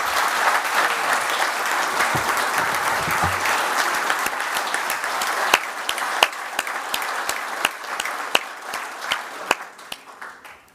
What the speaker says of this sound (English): maybe join me again in an applause to all of my fellow finalists